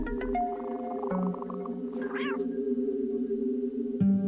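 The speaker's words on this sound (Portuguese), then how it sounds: "Ou talvez prefira um gato vivo?" A single cat meow rises and falls over a steady droning musical background, fairly clear and close.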